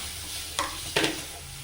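Chopped tomato drops into a pan of spice powders frying in oil. Two short scraping stirs break over a soft, steady sizzle, close and alone.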